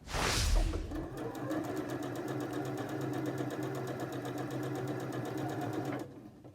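A sewing machine runs steadily for about five seconds, stitching homemade fabric face wipes with gray thread, its fast even whir and needle clatter close and alone before stopping abruptly.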